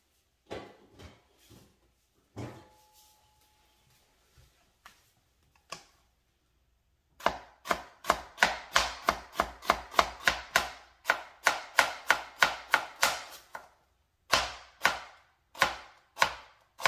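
Knife slicing red onion thinly on a cutting board for stuffed calamari: sparse chops at first, then a fast, steady run of crisp close cuts with a brief pause before a final burst.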